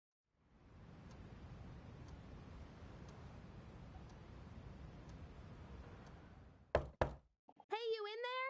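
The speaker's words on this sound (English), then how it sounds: "Shorty banging on the door." Two sharp knocks on a door sound in Persona 3 Reload after a long stretch of quiet background hiss, followed by a short burst of in-game voice.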